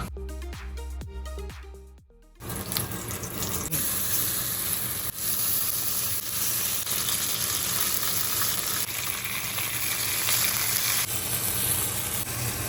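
Food sizzles loudly and steadily in a Hexclad wok after a short stretch of quieter cooking sounds, a dense continuous frying hiss with occasional stirring bumps, close and unbroken.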